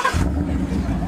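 A V8 car engine turns over and settles into a loud, steady low rumble close by, with faint voices murmuring in the background.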